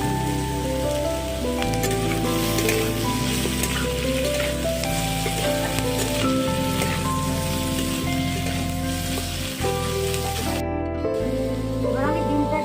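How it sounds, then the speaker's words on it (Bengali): Boiled eggs fried in a pan give a continuous dense sizzle and spitting crackle, steady and close, while a tonal background bed with a repeating pattern runs beneath it. "এবার আমি ডিমটা একটু ভেজে নিচ্ছি।"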